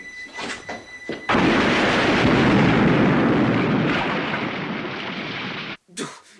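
A loud film explosion from Independence Day (1983) erupts into a sustained roaring blast lasting several seconds, slowly fading before cutting off, preceded by brief clicks and followed by a short burst of movement.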